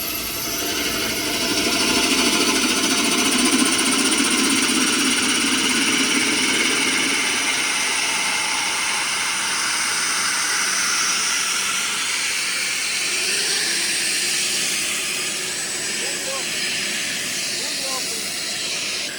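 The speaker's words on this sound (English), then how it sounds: "All right, so we're gonna start opening this valve." Air-A-Plane SAS2000D air start unit running with a strong rushing hiss and engine roar as a valve is opened, the airflow loud at first, then easing and shifting in tone; speech is faintly present.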